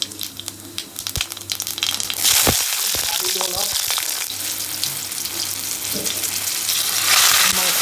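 Pork hits hot oil and cumin in a pan with a loud burst of sizzling, then keeps frying with a steady crackle and occasional stirring clinks before the sizzle swells loudly again near the end.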